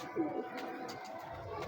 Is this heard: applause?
no